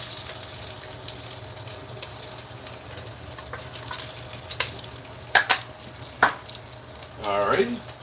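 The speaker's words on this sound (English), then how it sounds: "we're going to saute the onions and the pepper and the celery. All in that bacon grease" Onions, bell pepper and celery sizzle steadily in bacon grease on a stovetop, a constant frying hiss with a few sharp utensil scrapes and clatters near the end.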